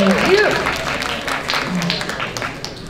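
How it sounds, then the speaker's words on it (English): An audience at an entrepreneurship forum applauds a judge, a moderate round of clapping that fades gradually, with a voice speaking over the start. "a round of applause for Mr. Rick Tay, please."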